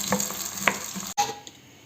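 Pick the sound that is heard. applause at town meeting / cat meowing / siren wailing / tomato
tomato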